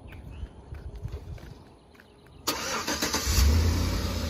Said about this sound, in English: I'm gonna do remote start.